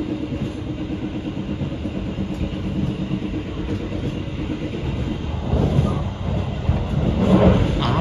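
The KA Taksaka train slows on a curve near the Renville bridge after Kebumen station, heard from inside as a steady low rumble with rhythmic clickety-clack of the wheels, swelling slightly toward the end.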